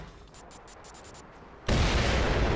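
Rapid bursts of toy-like gunfire from a Gatling-style Nerf gun in the video game Vanquish, seven short evenly spaced shots followed by a loud sustained roar of continuous fire.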